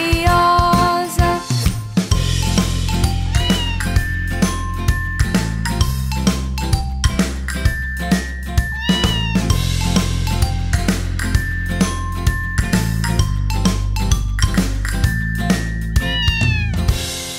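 Kittens meowing in a children's song, repeated cat meows and a bright tinkling melody laid over a steady musical backing, with no talking.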